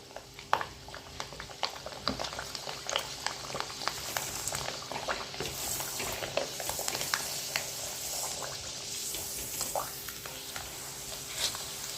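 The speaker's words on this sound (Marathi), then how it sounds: "कडक तापल्यानंतरच पापड घालायचं आणि असं दाबून ठेवायचं" Khichiya papad frying in very hot oil, giving a steady close bubbling sizzle with frequent small crackles and pops throughout, no voices.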